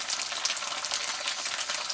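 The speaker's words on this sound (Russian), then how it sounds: "пока жарятся макароны" Pasta sizzling as it fries in a pan, a steady dense crackle and hiss with no pauses, close and even throughout.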